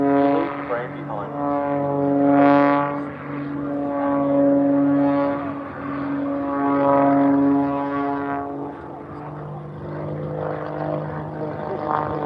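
Propeller aerobatic aircraft performing at the Aldinga airshow, a loud droning engine note that rises and falls in pitch as the plane passes, steady and fairly close, with no one talking.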